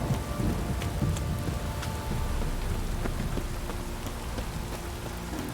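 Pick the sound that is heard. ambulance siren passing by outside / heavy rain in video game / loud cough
heavy rain in video game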